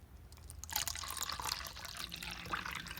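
Water poured from a cup down a hatch in a heat transfer lab setup, a splashing, trickling pour that starts after a brief pause and runs steadily to the end.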